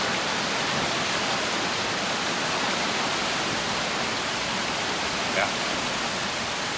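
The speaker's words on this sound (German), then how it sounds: "Ich brauche nämlich das Geräusch von dem Mühlrad für meine Symphonie." Water rushing and splashing at a real water mill wheel in a stream, a steady, dense broadband wash that holds constant and close throughout with no breaks.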